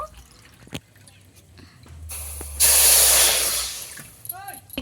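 Water poured into a bowl for homemade condensed milk, a loud rushing splash in the middle after scattered clinks and drips, with a voice speaking near the end.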